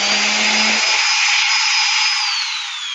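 An aggressive handheld power sander whines loud and steady close up at a high pitch, starting with a low hum, holding a constant tone and easing off slightly at the end, with no talk.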